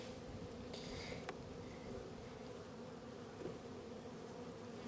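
Honey bees hum in a dense, continuous drone inside a hive full of honey, a close, steady buzz with a few brief clicks over it and no talking.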